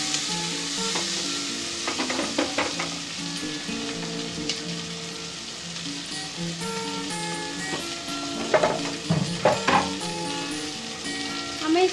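Peas, carrots and potatoes sizzle steadily in a hot pan, a continuous close frying hiss with occasional stirring scrapes and clinks of a utensil against the pan.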